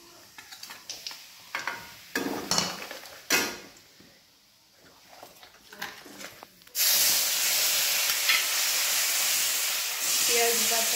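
Spices and dried red chillies hit hot oil for a fish curry, erupting into a loud, sustained hiss and sizzle after a stretch of clinking, handling and scattered noises.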